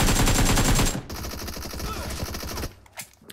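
Rapid bursts of gunfire from a shooter video game, loud automatic fire rattling continuously before cutting to a few scattered shots and quieter game noise.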